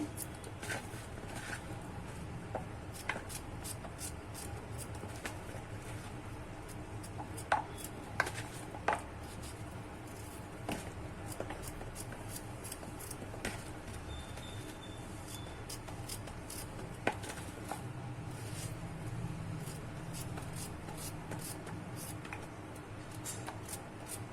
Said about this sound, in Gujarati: હવે આના આપણે નાના નાના ટુકડા કરી લેશું